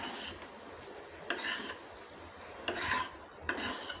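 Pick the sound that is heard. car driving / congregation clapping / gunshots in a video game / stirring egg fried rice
stirring egg fried rice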